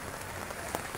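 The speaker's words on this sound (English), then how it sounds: "It's rain falling, buddy." Rain falling steadily, a dense, even patter of hiss that sounds close and fairly quiet throughout, with one brief louder splash near the end and no voices.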